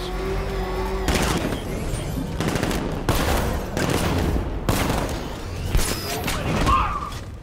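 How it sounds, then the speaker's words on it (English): Soldiers and sentry gun placements firing in Batman: Arkham Knight: loud, repeated bursts of automatic gunfire in rapid strings, mixed with game noise and a voice talking. "They're equipped with firearms and sentry gun placements."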